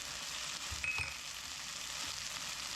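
Flour being stirred into a simmering stew in a pot, producing a soft, steady bubbling sizzle under light scraping and a few brief knocks from the utensil, heard close and fairly quiet.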